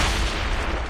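Ship cannon broadside firing in Assassin's Creed Rogue, a dense, loud roar of booming blasts merging into one continuous barrage with no speech.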